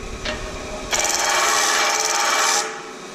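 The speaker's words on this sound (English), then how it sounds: "it has a piece of sandpaper adhered to the disc, and then it has this table here, and it's sanding away" A loud abrasive grinding hiss rises abruptly and holds steady for nearly two seconds, then cuts off, like a disc sander working material up close.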